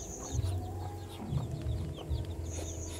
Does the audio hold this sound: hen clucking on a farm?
yes